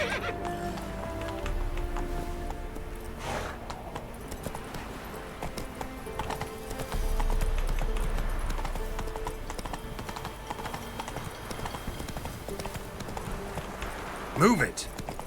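Horse galloping in The Witcher 3 video game: steady rhythmic hoofbeats under game ambience and music, with a rider's voice spurring it on and a brief whinny near the end.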